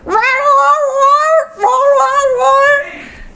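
A human voice imitates a cat, giving two long, drawn-out wailing meows that are loud and close, separated by a short break, with the second trailing off into a breathy fade.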